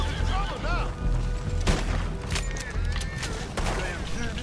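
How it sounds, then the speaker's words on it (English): Rapid bursts of video game gunfire loaded with incendiary rounds, loud and continuous with sharp cracks, some in the dark, mixed under players talking throughout. "Are you shooting incendiary rounds?"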